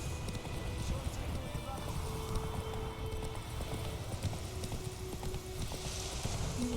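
Horse hooves in The Witcher 3 video game, a steady clip-clop of a trotting horse close by, continuous under game ambience, with voices talking.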